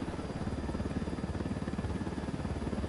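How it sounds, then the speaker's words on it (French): A helicopter in Ghost Recon drones steadily with a rapid, rhythmic rotor thump under a constant engine hum, moderately quiet and continuous throughout. "J'ai ramené un hélicoptère."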